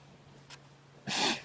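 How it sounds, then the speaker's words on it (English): A wild animal, seen at sunrise on an African wildlife broadcast, gives a single short sneeze-like snort, faint and distant against a quiet background, with a brief softer breath just before it. "Oh, sneeze."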